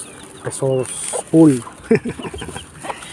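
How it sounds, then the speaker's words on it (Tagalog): A mother hen clucks in short tonal bursts, close and loud, with a voice speaking around her calls. "Ayan, yung inahin papasok na natin."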